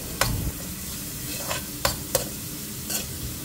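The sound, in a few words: garlic and onion frying in oil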